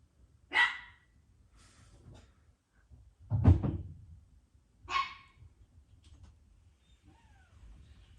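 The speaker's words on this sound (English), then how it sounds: "My dogs be going crazy over no goddamn reason." Dogs bark outside in a few scattered, sharp bursts at moderate distance, separated by quiet stretches with faint background rumble.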